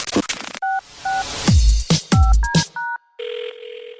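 Telephone dialing sound effect: a quick run of short, loud touch-tone beeps at varied pitches, broken by heavy thumps, ending in a longer steady tone.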